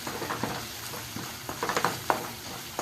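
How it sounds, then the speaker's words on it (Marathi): Red chilli powder and coriander-cumin powder sauté in a pan for a ridge gourd and potato dish, giving a soft sizzle with a cluster of quick stirring taps and scrapes near the end. "लाल तिखट, धणे जिरे पावडर, हे चांगलं परतून घ्यायचं"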